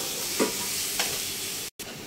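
Spoon stirring a mash of boiled banana flower and mashed potato in a pan, with two soft scraping strokes over a steady sizzling hiss from the hot pan.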